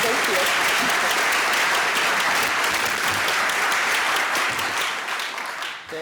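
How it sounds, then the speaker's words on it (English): Lunch keynote audience at an entrepreneur expo breaking into steady, full applause that holds loud for several seconds before tapering off near the end. "If we can give them a round of applause."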